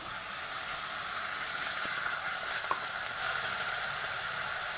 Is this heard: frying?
yes